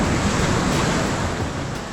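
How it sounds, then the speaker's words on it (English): Ocean waves wash steadily onto a dark sand beach on Tenerife, a continuous broad roar of surf close by, with some wind buffeting the microphone. "Beautiful waves."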